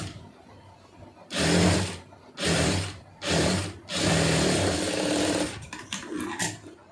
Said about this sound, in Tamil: கரெக்டாக ஒரு கால் இன்ச்சு அளவுக்கு தையல் போட்டுருங்க